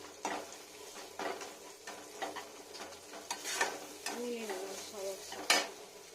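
Spices frying in a pan with oil while being stirred, quiet sizzling broken by scraping and clinking of a utensil against the pan in irregular strokes, close and fairly faint.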